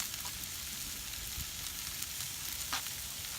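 Marinated bourbon chicken, chopped small, sizzling on foil on a grill, a steady close hiss of frying with faint crackles and no one speaking.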